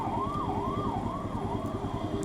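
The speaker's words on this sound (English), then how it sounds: "Just ambulance" An ambulance siren on a street in India wails in a steady rising and falling sweep, continuous and fairly loud over low traffic rumble.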